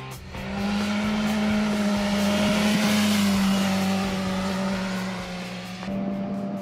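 A motorcycle exhaust roars as the engine revs up, holds a strong drone, then eases off before climbing again, loud and close.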